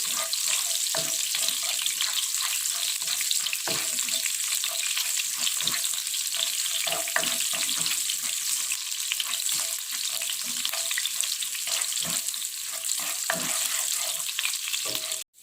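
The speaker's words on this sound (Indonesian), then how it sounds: "lalu kita tumis bawang merah terlebih dahulu. Oke, kita aduk." Sliced shallots sauté in hot vegetable oil, a loud, steady hiss and crackle close by, broken by scattered scrapes and taps as a spatula stirs them around the pan throughout.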